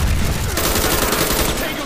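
MP5K submachine gun fire rattles in a rapid, dense burst throughout a multiplayer video game match, loud and continuous for about two seconds.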